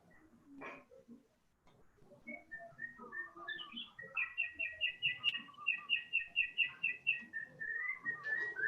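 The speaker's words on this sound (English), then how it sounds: "I'm not sure if you can hear some of the birds outside my window" Birds outside a window in Singapore sing in a long run of bright, repeated whistled notes, starting sparse then settling into a steady rhythmic series of chirps, fairly close and clear over a quiet indoor background.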